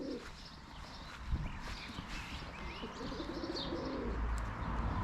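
Pigeons coo and flutter close by in a coop amid a busy background of chirps and rustling.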